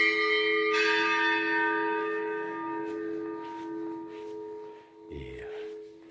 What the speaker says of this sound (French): au moins on entend les cloches.